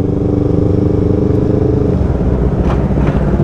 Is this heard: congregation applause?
no